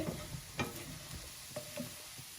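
Food frying in a home kitchen pan sizzles steadily while a utensil stirs it, with soft scraping clicks over the continuous hiss, close and fairly quiet.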